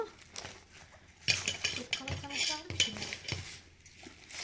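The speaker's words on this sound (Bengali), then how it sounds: "আম্মু দেখো কি করছে এই স্যুপ খাওয়ার চামচ নিয়ে খেলতেছে" A child plays with a metal soup spoon, producing scattered clinks and clatters against dishes amid household background noise, with faint voices nearby.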